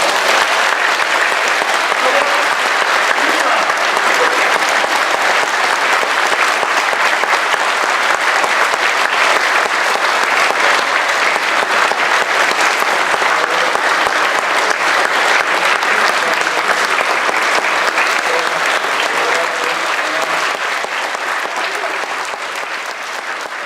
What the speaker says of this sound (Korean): 이제 졸업한 우리 세명의 친구들 위해서 큰 박수 한번 부탁드리겠습니다